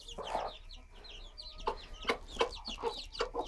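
Rhode Island hens in a broody pen clucking to their chicks over compost, soft repeated low clucks in short bursts mixed with thin chick peeps, close and fairly quiet.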